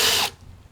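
Power drill boring an angled hole into a wooden deck post while fitting cable railing, a loud close whine for about a quarter second that cuts off abruptly into quiet room tone.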